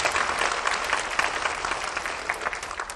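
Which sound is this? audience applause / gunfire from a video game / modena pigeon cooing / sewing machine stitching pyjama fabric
audience applause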